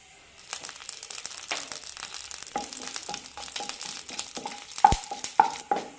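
Half a teaspoon of fenugreek seeds fry in a pan for kohlrabi (noolkhol) sambar, giving a close, steady crackling sizzle broken by scraping stirs and a few sharper clinks near the end.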